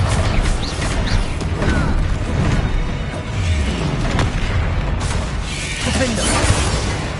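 Confringo fire-blast spells cast in Hogwarts Legacy combat bring repeated booming, crackling impacts that keep arriving one after another over a dense, busy wash of game sound effects.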